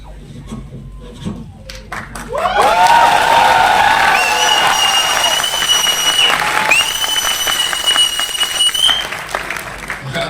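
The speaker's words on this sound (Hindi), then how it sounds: "जब भी मैं कोट उतारता हूँ लोग तालियां क्यों बजाते हैं" A seminar audience breaks into loud, sustained applause that swells after a few scattered claps and holds steady, with some cheering mixed in.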